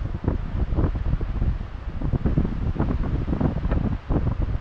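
Steady, heavy wind buffeting a microphone on a fishing outing, a dense rumbling roar with gusty surges throughout and no voices.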